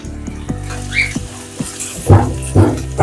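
Sliced onions sizzling and crackling in a hot pan as beef roast begins, with steady frying hiss and several louder bursts of spatter from stirring, with no talk.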